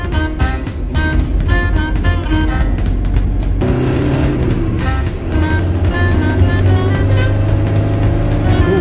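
A 1969 Vignale Samantha, a coachbuilt car based on the Fiat 125, driving along, engine hum steady and fairly loud with a gear change partway, heard from inside the car.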